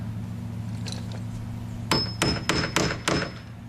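Hammer tapping on stucco to mark a spot for a flag pole mount, five sharp, close taps in quick succession after a quiet stretch with a steady low hum.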